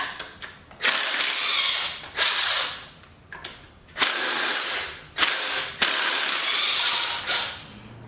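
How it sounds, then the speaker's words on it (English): A ratchet wrench removes the fuel pump from a barn-find Pontiac Trans Am Turbo 301 engine, giving several loud, close bursts of rapid clicking separated by short pauses. "Taking the fuel pump off on this side, just this hose right here."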